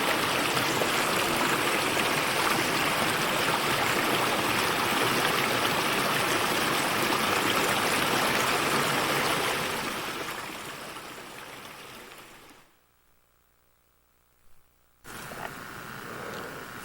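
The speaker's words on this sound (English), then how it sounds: "It's very slow-moving water." Water flowing in a stream feeding a slow-moving pond, a steady broadband rush that fades out after about ten seconds, drops to near silence, then briefly returns.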